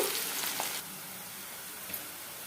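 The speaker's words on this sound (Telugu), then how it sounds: "ఇప్పుడు ఈ ఉల్లిపాయల్ని గోల్డెన్ కలర్ వచ్చేంత వరకు ఫ్రై చేసుకుందాము" Sliced medium onions fry in hot oil until golden, making a soft, continuous sizzle with a few faint stirring knocks. No one speaks.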